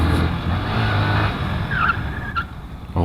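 A car brakes hard on a wet surface with a sustained tire screech and skid over a loud continuous road roar, close and without talk.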